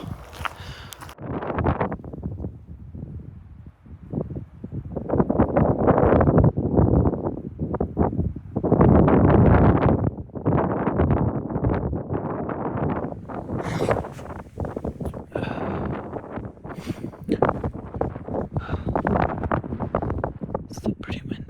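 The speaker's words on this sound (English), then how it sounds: "Still pretty windy." Strong wind buffets the microphone in heavy gusts, with rustling around and occasional faint voices.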